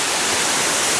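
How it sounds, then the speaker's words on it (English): A dam spillway waterfall at Otter Lake on Otter Creek, Virginia, pours as a loud, dense, continuous roar of rushing water, close and unbroken with no voices. "Check out this beautiful waterfall spillway from the dam of Otter Lake"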